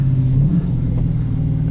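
The 5.7 V8 of a 2018 Dodge Challenger Shaker with a manual gearbox rumbles up in a short, loud rev-match blip, a deep throaty engine note that settles into a steady low drone, heard close with no talk.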